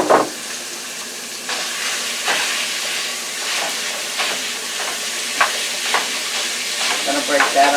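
About a pound of ground beef sizzles in a pan, with a steady hiss broken by repeated scraping and stirring clatters close by, no talking.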